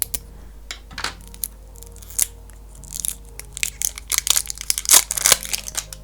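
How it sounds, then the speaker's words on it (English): Close-up crinkly snipping and crunching as scissors cut open plastic cosmetics packaging, irregular cuts speeding up toward the end, with rustling between. "I'm gonna go in with some scissors."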